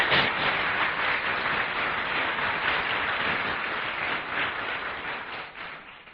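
A large audience at a 1998 Tibet benefit evening in San Francisco applauds steadily, a dense wash of clapping that holds strong for several seconds before slowly thinning toward the end.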